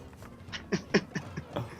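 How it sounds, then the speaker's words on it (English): A dog squeaks and whimpers in a series of short, closely spaced cries at moderate distance, with a faint hum in the background. "The dog arrived"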